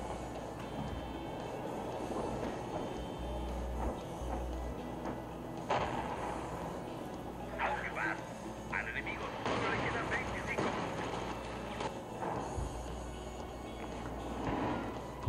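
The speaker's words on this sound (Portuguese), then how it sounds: "mandou um ataque aéreo ali agora" An air strike in Company of Heroes 2 lands amid ongoing battle noise, with repeated booming impacts and gunfire bursts and a rumbling engine drone, under intermittent talk.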